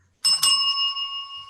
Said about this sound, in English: bang the bell a couple of times